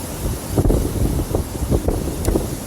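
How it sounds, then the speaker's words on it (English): Wind blows outdoors and batters the microphone in uneven low gusts, a rumbling, fluttering rush that swells and dips over a few seconds with no talking. "It's windy out. I'm outside right now."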